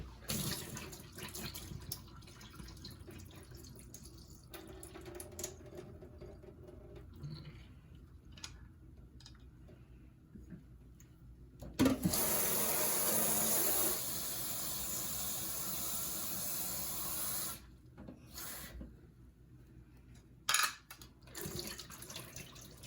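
Running water from a tap splashes into a sink as canned black beans are drained and rinsed in a strainer, a steady loud rush for several seconds with quieter trickles and handling clatter before and after.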